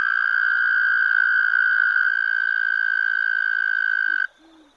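Endangered Aurora toad giving a long, steady, high-pitched trill that holds loud and unbroken for about four seconds before stopping abruptly, followed by a faint low sound.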